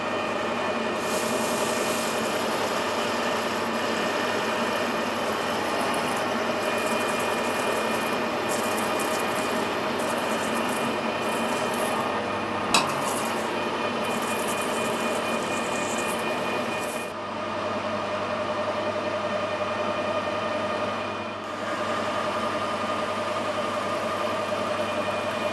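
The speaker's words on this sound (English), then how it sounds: "Parting tool in there." Lathe parting tool cutting into metal during a thread repair, giving a steady grinding, rubbing drone with a constant tonal whine over motor hum, a sharp click midway, then quieter as the cut eases.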